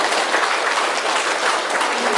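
Audience applause for a school committee at a high school event in Batanghari, a steady, dense clapping that stays loud and even throughout without pauses.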